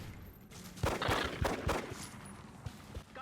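A pistol fires in the turn-based strategy game XCOM: Enemy Within, heard as a quick run of four or five sharp shot bursts over about a second with a softer pop afterward, and no one talking.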